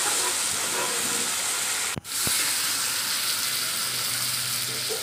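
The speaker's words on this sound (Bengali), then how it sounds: "আলু টুকরো করে কেটে রেখেছিলাম, একটু নুন দিয়ে ভেজে নিলাম। নাড়াচাড়া করে ভেজে নিলাম।" Potato pieces frying in hot oil with salt give a dense, constant sizzling hiss, close and steady throughout, broken by a single brief dip and a faint clunk partway through.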